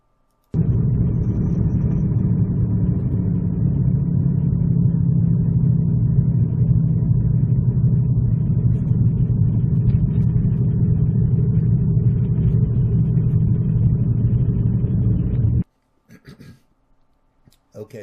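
A car's engine rumbles steadily while driving, a loud, low continuous drone lasting about fifteen seconds that cuts off abruptly, followed by a few brief faint sounds.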